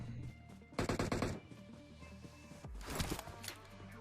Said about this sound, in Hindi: पता नहीं पीछे से किसी ने DP फायर कर दी